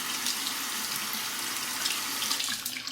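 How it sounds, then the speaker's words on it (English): Hot water runs from a tap over a shaving brush being soaked before face lathering, a steady close splashing rush that continues throughout. "soak it under the hot water."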